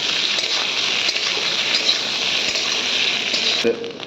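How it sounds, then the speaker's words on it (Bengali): Food frying in a pan with turmeric and chilli gives a loud, steady, hissing sizzle that runs unbroken, with a faint clink near the end. "ভাজা হচ্ছে"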